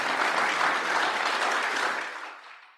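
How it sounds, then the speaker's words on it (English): A crowd at a law school's distinguished Indian law speaker event breaks into steady, dense applause that holds strong for about two seconds, then fades out toward the end. "Give him a round of applause."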